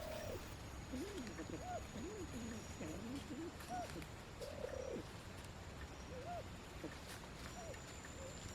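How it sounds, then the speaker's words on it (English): Siamese Fireback pheasants, Thailand's national bird, calling in a flock in the forest of Sakaerat Biosphere Reserve: a series of soft, repeated rising-and-falling whistled notes over steady insect and forest hum, moderately near. "Meet the national bird of Thailand, also known as the Arts Fireback."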